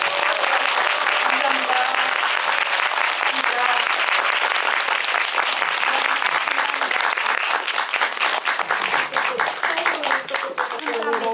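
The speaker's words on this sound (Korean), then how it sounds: "이 아름다운 작품을 우리에게 보여주신 두 분의 감독께 다시 한번 박수 부탁드립니다." An audience at a Seoul Independent Film Festival screening Q&A applauds the two directors in a loud, sustained round of many hands clapping that thins a little near the end.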